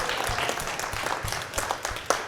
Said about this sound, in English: can we please clap for Asher?